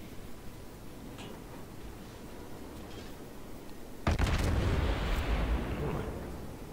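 A Kirov cruiser in a naval video game lets off a loud, booming salvo of armor-piercing shells partway through, the heavy blast ringing out over steady low background rumble.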